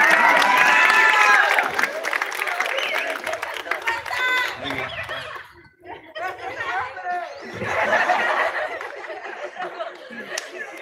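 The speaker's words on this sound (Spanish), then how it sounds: "Y un aplauso fuerte al número 8" A school crowd at a backpack modeling contest breaks into applause mixed with loud cheering, shouts and laughter. Voices stay prominent throughout, dipping briefly midway before surging again.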